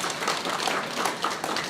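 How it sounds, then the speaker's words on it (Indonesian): An audience claps together at an indoor ceremony handing over hospital electric vehicles, a dense even patter of many hands at moderate loudness with no voices on top. "Tepuk tangan buat teman-teman sekalian."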